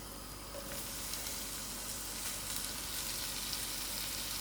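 Onions frying in melting margarine in a pan for a spicy vegetable stew, a steady soft sizzle and hiss running evenly throughout, close and alone with no talk.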